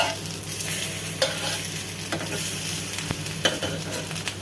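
Egg frying hard in a pan with little oil for an egg dish, giving a continuous close sizzle with occasional scraping and clatter of a spatula, no talking.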